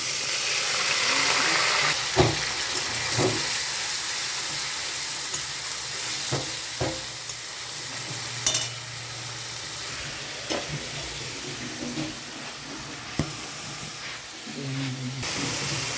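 Onion paste fries in a pan with dried chilli and chopped onion while a raw jackfruit curry is cooked, a steady loud sizzle carrying on throughout with scattered sharp stirring knocks and scrapes.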